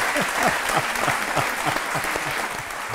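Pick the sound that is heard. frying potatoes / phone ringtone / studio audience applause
studio audience applause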